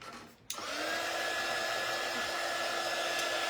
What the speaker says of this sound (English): Let's hit everything with the dryer.